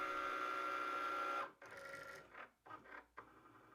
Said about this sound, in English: Cricut is going to read the registration marks